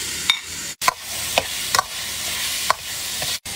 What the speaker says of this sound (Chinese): 剁个蒜蓉，油热放蒜末